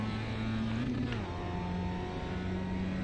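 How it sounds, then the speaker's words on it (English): A Global MX-5 Miata race car in the iRacing video game pulls out of the pit lane at Mid-Ohio, its engine a steady, moderately loud hum that holds a constant pitch after a brief shift, with no talk. "we're going to zoom out of the pit lane here in our Global MX-5"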